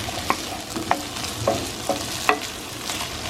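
Green peppers and leftover onions frying in a pan, a steady sizzle with periodic scraping stirs about every half second, close and moderately loud, no voices.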